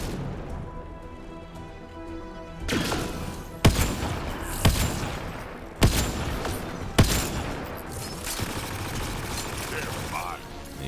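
Video game gunfire aimed at an enemy comes as a series of loud, sharp shots spaced a second or so apart over rumbling battle ambience, with voices talking throughout.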